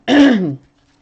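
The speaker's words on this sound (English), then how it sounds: "I coughed into my elbow." One short, voiced cough into an elbow, close and loud, followed by silence.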